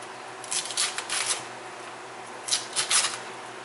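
A knife slices lengthwise through a cabbage for chicken cabbage soup, two short runs of crisp crunching cuts separated by a pause, close and fairly quiet, with no talk.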